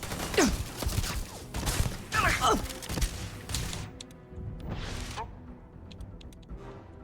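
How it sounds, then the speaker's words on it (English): Bursts of rapid gunfire and impacts in a Starfield firefight, dense overlapping shots in the first half that thin out to a few sparser hits and mechanical clanks, with a voice speaking over the action. "they're shooting each other and it's not..."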